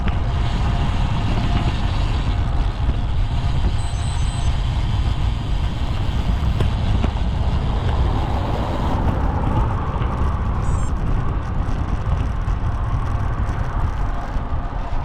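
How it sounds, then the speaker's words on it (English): A car comes up behind and passes on a narrow single-lane country road, a steady broad vehicle rumble with wind buffeting on the microphone throughout, swelling and shifting as it goes by. "Car behind."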